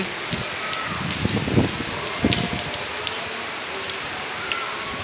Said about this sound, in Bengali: বৃষ্টি আর বৃষ্টি চারিদিকে বৃষ্টি